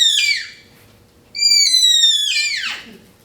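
A human voice imitates an elk bugle, giving two high, whistling, falling calls, the second longer and sliding down at its end, close and clear with no other sound.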